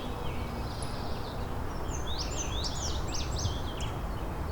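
A Blackburnian warbler sings in McMaster Forest, Hamilton: a thin, high series of rising notes, fairly faint and distant over steady outdoor background noise.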